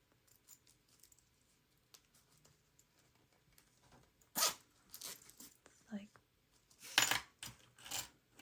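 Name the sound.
zipper being handled while sewing a bag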